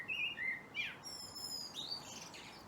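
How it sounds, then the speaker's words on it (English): A bird calls repeatedly with sharp, high chirps and whistled notes, fairly close, over a soft outdoor background with no talking. "Noisy bird."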